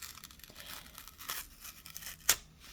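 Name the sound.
tearing apart a paper card piece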